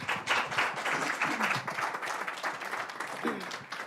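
An audience at a minority health lectureship applauds, a dense burst of many hands clapping that fills the room at moderate volume and holds steady throughout.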